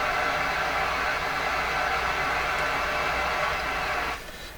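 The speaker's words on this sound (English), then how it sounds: "the rushing sound, the white noise or whatever you want to call it" Steady broadband hiss rushes from an Electrohome CS400P stereo, even and unbroken for several seconds before it drops noticeably quieter near the end, with no voices.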